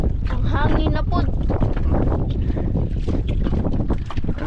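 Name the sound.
strong wind on a boat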